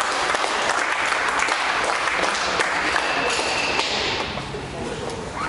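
Audience applause at a bench press competition, a steady wash of many hands clapping together at moderate loudness that eases slightly toward the end.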